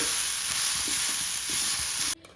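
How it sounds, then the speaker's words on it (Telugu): Whole spices and poppy seeds fry in a pan, giving a loud, steady hiss with soft stirring scrapes that cuts off abruptly near the end. "ఈ మధ్యలో 2 టీ స్పూన్ల గసగసాలు వేసి వీటిని మొత్తం మళ్ళీ ఫ్రై చేయాలి"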